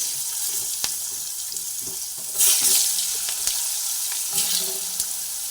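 Spiny gourd (kakrol) pieces sizzle in hot oil, a constant frying hiss that swells sharply as more pieces go in, with scattered pops and clinks of a utensil against the pan, no talking.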